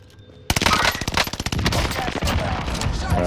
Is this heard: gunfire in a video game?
yes